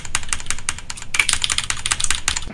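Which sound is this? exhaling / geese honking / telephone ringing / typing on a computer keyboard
typing on a computer keyboard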